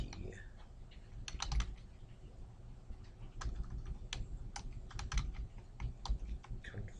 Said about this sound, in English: this is where typing and spelling matters